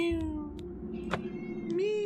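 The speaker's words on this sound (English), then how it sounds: "It's you, kitty. That's what you sound like." A cat gives a drawn-out meow, steady in pitch and rising a little at the end, with faint background noise and no talking.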